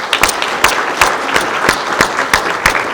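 Scattered applause from a small audience at a synagogue breakfast hosted by Congregation Beth Shalom, a handful of distinct claps ringing out unevenly over three seconds, fairly close and moderately loud.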